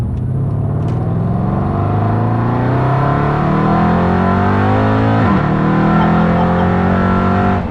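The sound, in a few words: tuned supercharged car exhaust revving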